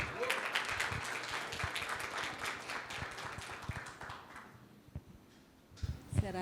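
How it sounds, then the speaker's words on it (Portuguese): An audience at a public-security training course claps for a speaker, a moderate burst of applause that fades out toward the middle, followed by a few scattered knocks and handling noises. "Para a doutora, uma salva de palmas."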